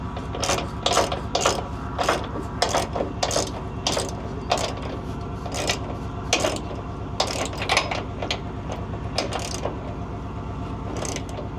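A wrench ratchets steadily while tightening a nut on a trailer air bag fitting during a leveling valve and air bag replacement, with rapid repeated clicking over a low steady hum, close and continuous.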